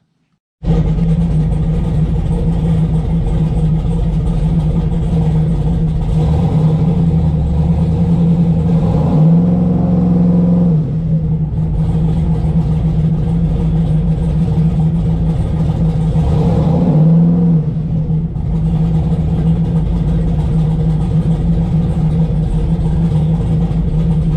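A car fitted with a Mechman alternator runs steadily for about twenty seconds, a loud, close, continuous engine drone with a strong low hum, rising briefly twice as the engine revs, and no talking.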